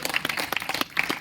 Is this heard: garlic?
no